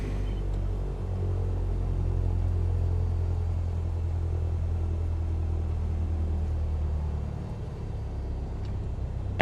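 Aircraft engine in a flight simulator game throttling up for taxi, a steady loud low rumble that holds for several seconds and eases slightly near the end, with no talk over it.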